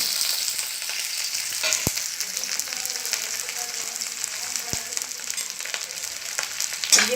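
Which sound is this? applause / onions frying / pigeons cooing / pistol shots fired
onions frying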